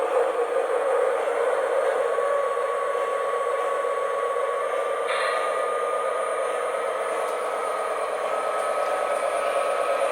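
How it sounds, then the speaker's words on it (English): Model train sound effect on a Scooby-Doo themed train set, a steady rushing rail rumble with a sustained tone running through it, continuous and fairly loud throughout. "The Scooby-Doo train."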